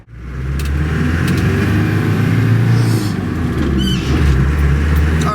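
An early Land Rover cruises in fifth gear, its engine droning loud and steady from inside the vehicle. The drone swells slightly in places, and faint squeaks and rattles sound over it without any talk.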